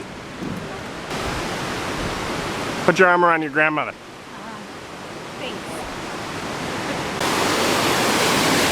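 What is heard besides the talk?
water pouring out of a cave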